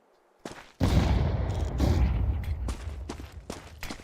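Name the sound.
grenade explosion in a video game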